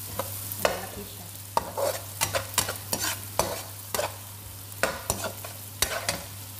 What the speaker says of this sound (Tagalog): Habang ginigisa natin guys yung butter